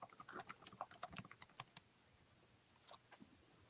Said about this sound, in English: What are you typing your essay, Rossi?